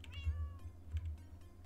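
A cat meows in a video game, one drawn-out meow followed by a shorter second, close and clear over a low steady hum, with no talking.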